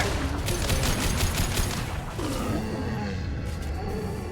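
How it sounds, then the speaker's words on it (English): Heavy gunfire in a Mass Effect Legendary Edition firefight, a dense barrage of rapid overlapping shots and explosive bursts, loud and continuous, with rhythmic repeated cracks in the first half. "Taking heavy fire!"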